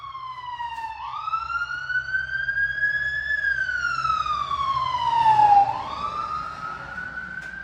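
An ambulance siren wails in long rising and falling sweeps, moderately distant, over a low traffic rumble.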